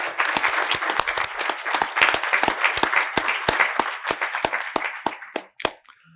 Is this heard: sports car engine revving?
no